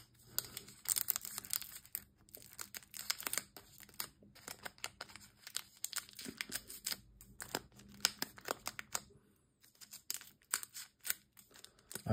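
Scissors snip open Pokemon card packs in a quiet room, making faint, quick cuts mixed with crinkling foil and the rustle of cards being handled.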